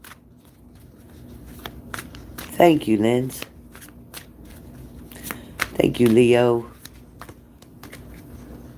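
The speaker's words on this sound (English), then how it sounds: "I'm shuffling right now just to mix them up" Tarot cards being shuffled by hand in short riffling bursts near the microphone, with two louder flurries amid quieter handling noise, while a person speaks between them.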